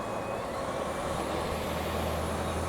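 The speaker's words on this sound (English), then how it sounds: "Right now we're just cruising behind this bus." A city bus in Los Angeles traffic rumbles nearby, followed closely from behind, as a constant low engine drone with road noise and a faint high whine, no voices.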